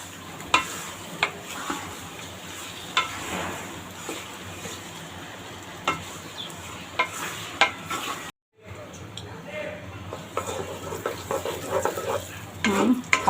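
Spices, including a pinch of chili powder, lightly frying in a pan for a sweet-sour-hot raw mango pickle, a soft crackle with stirring and occasional clinks of the utensil, broken by a brief gap.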